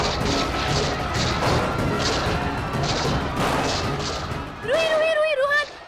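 In a Hindi TV drama, a gunfire sound effect sounds as a run of loud, evenly spaced bangs, followed by a brief warbling tonal effect at the close.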